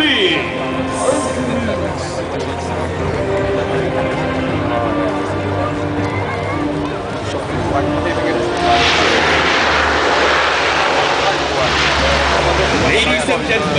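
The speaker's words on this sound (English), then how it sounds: "presenting the mighty C-130 Hercules" A Lockheed C-130 Hercules military transport aircraft comes in to land at an air force open house in Singapore, its loud propeller drone steady and rising toward the end, with an announcer talking over it.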